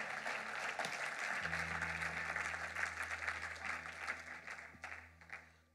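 A church congregation applauds during a sermon, a dense, sustained wash of clapping with a low tonal hum beneath, gradually thinning toward the end.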